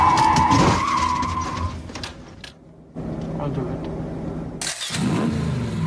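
A car skids hard under heavy braking, tyre screech and engine noise loud and close, with a brief lull midway before the sliding roar returns; voices can be heard in the mix.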